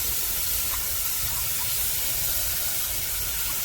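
Syrup caramelizing in a pan on a stovetop gives off a steady, soft hissing sizzle that stays even throughout, with no talking.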